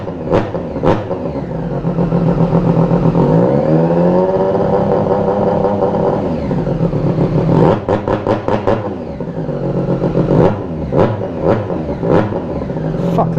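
A loud Triumph Street Triple 765RS motorcycle with an aftermarket SC Project-style exhaust gives a few sharp throttle blips, then a long climbing rev, settles, and finishes with another burst of quick revving.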